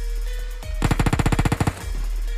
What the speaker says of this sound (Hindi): मेरे को कुछ स्टेप्स और गोलियों की आवाज़ आ रही थी